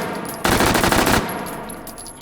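An MP510 10mm submachine gun in H3VR rips off one loud, close burst of rapid full-auto fire lasting under a second, then falls silent.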